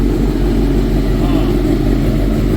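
A twin-engine Hayabusa mini truck fitted with a Brock's Performance exhaust runs close by with a loud, steady, low droning rumble that holds unchanged throughout.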